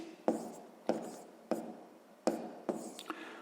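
Pen strokes on paper while working a sixth-grade math exercise by hand, a series of short scratchy bursts repeating at roughly half-second intervals, close and fairly quiet.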